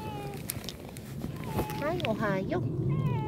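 A cat meows several times in a rising, falling chirping pattern close by, its calls mixing with a person's soft, affectionate talk in a home setting.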